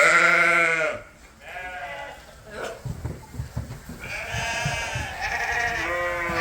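Lambs on a sheep farm bleating on a cold night, several loud wavering cries near at hand, with a pause and low rustling between calls and a few overlapping bleats toward the end.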